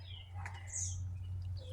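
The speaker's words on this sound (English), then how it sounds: "a nest with baby birds in it" Baby birds in a nest built inside a small backyard grill on a deck give faint, high chirps and peeps over a steady low hum, scattered across a short stretch.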